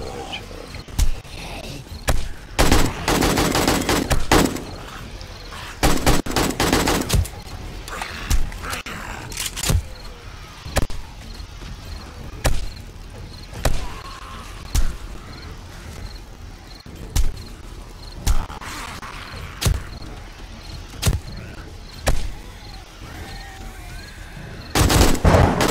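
Repeated bursts of gunfire from the 7 Days to Die video game ring out at a zombie horde during horde night, with short regular shots spaced every couple of seconds between longer dense volleys, loud and close.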